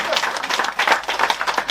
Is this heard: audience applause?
yes